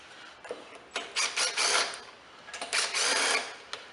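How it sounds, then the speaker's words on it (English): Screws are loosened on the air filter backing plate of a Honda GCV 160 engine's carburetor, giving a close run of short whirring, rattling bursts with brief gaps between them. "Go ahead and loosen off on the screws."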